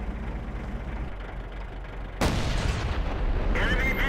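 World of Tanks cannon shot from an Object 704: low engine rumble, then a sudden loud blast that stays as a heavy, sustained roar, with a brighter ringing tail toward the end.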